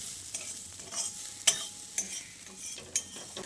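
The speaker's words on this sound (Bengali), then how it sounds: "ভালো করে মিশিয়ে নিচ্ছি।" Beetroot mixed with sesame and poppy seeds fried in oil, stirred in a pan: a steady low sizzle with scraping strokes and a few sharp utensil clicks against the pan, close and moderately quiet, with no talking.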